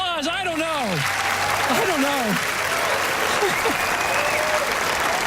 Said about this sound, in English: Let's give Genevieve a round of applause